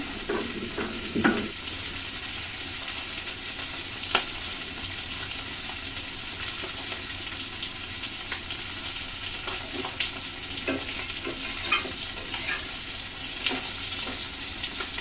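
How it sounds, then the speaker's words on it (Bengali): Tengra fish sizzle steadily as they fry in oil, a close, continuous crackle with occasional louder pops and a few soft utensil clinks. "মাছগুলো সুন্দর করে ভেজে নেব"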